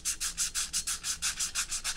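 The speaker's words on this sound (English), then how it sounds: "first thing I'm going to do is just sand the inside of my clutch drum" Small torn pieces of sandpaper scrub the inside of a Hilliard Flame clutch drum in a quick, even series of about ten rasping strokes, close and alone.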